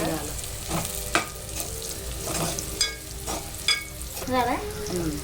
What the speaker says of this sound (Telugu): చికెన్ లేదు ఉల్లిగడ్డ ఇంకా కొంచెం వేగాలి